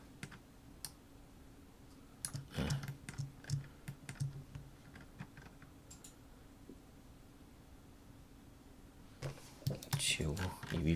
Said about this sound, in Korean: 컨트롤 키 눌러서 복사해서 붙여놓고 복사해서 붙여놓고 하신 다음에